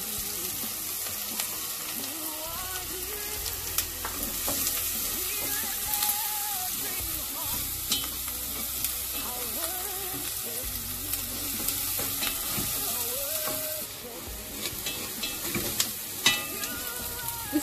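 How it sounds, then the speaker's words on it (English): Chopped onion frying in a pan, a loud continuous sizzle with scraping stir strokes throughout and no voices. "Fry my onion a bit."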